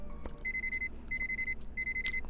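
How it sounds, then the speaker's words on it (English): An alarm clock in the video game Nancy Drew: Curse of Blackmoor Manor rings in three evenly spaced electronic beep bursts, clear and close, with faint background ambience and no talk. "Let's set an alarm for"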